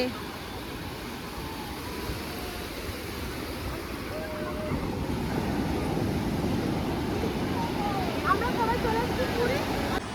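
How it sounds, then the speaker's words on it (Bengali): Strong sea waves roll in at Puri beach, a broad rumbling wash of surf that builds and stays loud, mixed with wind buffeting the microphone; voices talk over the surf now and then. "জোরে জোরে ঢেউ আসছে"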